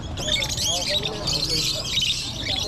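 Small caged birds at a weekend pet market stall in Obando chirp and tweet in quick, bright bursts, with people talking nearby and general market bustle underneath.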